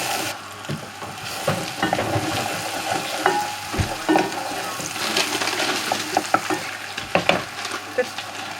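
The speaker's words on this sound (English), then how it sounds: "I'm just going to add in the garlic and ginger just to let it cook with the onions" Onions, garlic, ginger and chilies fry in a pan, with a steady crackling sizzle broken by the scrape and clatter of a spoon stirring, close and loud, with no talking.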